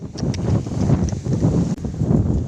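Strong wind buffeting the microphone in a steady, rough roar with gusty swells and no other clear sounds.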